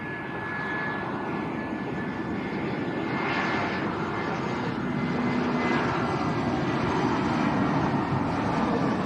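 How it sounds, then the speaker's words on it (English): Airbus A320 airliner arriving from Frankfurt on landing approach at Lanzarote Arrecife Airport, its engines a steady loud jet roar that swells gradually toward the end, with no talking over it. "This one's coming in from Frankfurt, Airbus A320."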